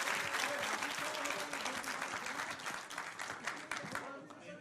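A studio audience at a televised Hindi debate show claps steadily in a dense, sustained burst that slowly thins toward the end, with voices faintly present underneath.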